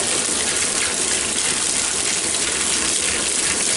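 An LG WT7400 top-load washing machine fills through both valves open at once, a loud, steady gush of rushing water that runs without a break, close up, with no voices.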